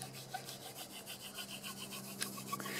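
A wooden spindle twirled between the palms in a fireboard notch for hand drill fire making, giving a rhythmic, repeated rubbing and scraping with regular back-and-forth pulses, close and steady, with no talking.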